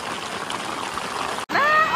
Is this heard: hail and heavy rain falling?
yes